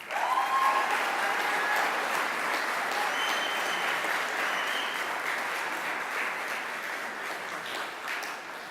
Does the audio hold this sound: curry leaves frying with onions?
no